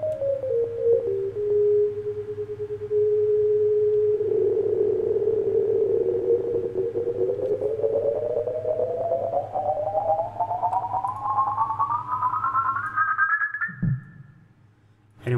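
MuseScore notation playback of a sustained synthesized note with expanding vibrato: a single clear tone that holds steady, then glides slowly upward over about ten seconds before cutting off abruptly, with no voices over it.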